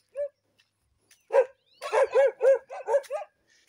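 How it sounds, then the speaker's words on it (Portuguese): A large dog barks repeatedly along a rural scrubland trail, a single woof followed after a pause by a quick rhythmic volley of about six loud, close barks. "Cachorro grande ali, ó."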